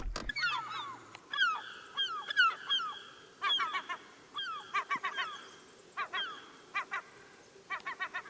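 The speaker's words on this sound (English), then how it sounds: "I was trying to get some video of those seagulls, and they're sitting out on a rock." Seagulls sitting on a rock on a lake along a canoe route call in a series of harsh, rhythmic squawks and honking cries, some overlapping, at moderate distance with no talking.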